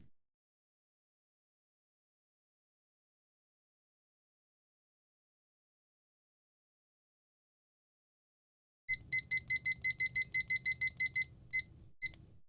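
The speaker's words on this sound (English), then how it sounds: "Let's just set the timer." A kitchen-style timer being set, silence for several seconds and then a rapid run of sharp, high electronic beeps close by, ending with one final isolated beep.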